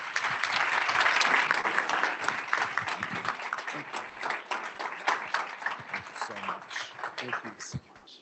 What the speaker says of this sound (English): Let's give our panel a round of applause.